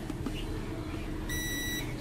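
A single sustained electronic beep from a multimeter continuity test sounds near the end, clear and steady for about half a second over a quiet room hum.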